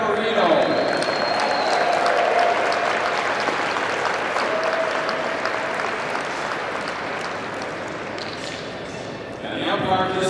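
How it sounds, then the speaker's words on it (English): Audience at a tennis final greets the second-seeded player with loud, sustained applause for the full length, with crowd noise and some voices mixed in, easing slightly before swelling again near the end. "Round of applause, please, for the second seed, Rebecca Marino."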